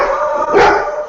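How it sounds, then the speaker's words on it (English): Dogs bark in a single loud, close burst lasting about a second, with no talk over it. "Sounds like we have some dogs who want to join in."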